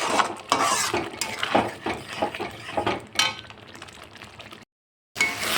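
Potatoes and jackfruit being stir-fried with spices in a pan, a spatula scraping and clinking steadily against the metal with busy, close stirring before a sudden brief silence and a resumption.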